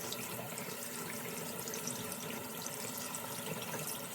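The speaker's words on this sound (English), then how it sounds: "Then I'm going to rinse my hands, forearms down to fingertips" Tap water runs steadily into a sink as hands and forearms are rinsed, a continuous soft splashing hiss with no voices.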